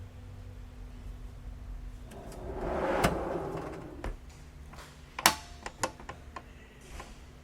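A hanging file drawer in a fire department vehicle slides open with a soft rumble, then shuts with a sharp clack followed by a few light knocks and rattles.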